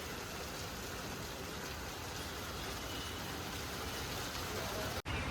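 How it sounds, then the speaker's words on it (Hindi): Steady, dense hiss of rain falling without a break, with a faint low rumble underneath and a brief dip near the end. "नीचे भीग रहे बारिश में"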